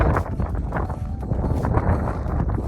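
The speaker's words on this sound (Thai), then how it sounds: "ทุกคนมีลมด้วยวันนี้" Wind gusts steadily across the microphone outdoors on a snowy April day in New York, a broad, rumbling rush with no voices.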